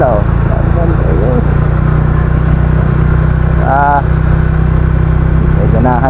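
Motorcycles and cars queued at a roadside checkpoint idle with a steady, loud engine rumble throughout, while people talk over the noise.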